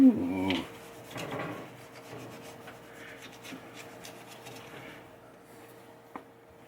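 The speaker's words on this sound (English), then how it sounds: "Just going around in circles, light pressure. Just rubbing it, buffing it." Light circular rubbing as wax is buffed onto a pinball machine, a soft continuous scuffing that stays close and quiet, with no talk.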